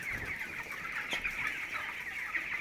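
Broiler chickens cluck steadily inside a poultry shed, a dense, continuous chorus of many birds at moderate distance with no talk over it.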